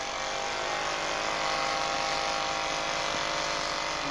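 Two dynamic percussion massage hammers beat together on the back, one faster on the sacrum and one slower at the thoracolumbar junction, making a steady, loud, dense electric buzzing that runs without pause.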